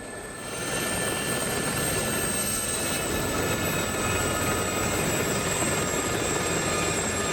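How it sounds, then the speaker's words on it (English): A Gazelle helicopter in the DCS flight simulator runs steadily after a brief swell at the start, with a dense rotor and turbine roar and thin high whines throughout, loud and close, with no voices. "I will explore this beautiful island with this equally beautiful helicopter"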